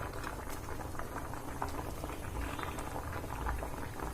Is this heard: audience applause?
no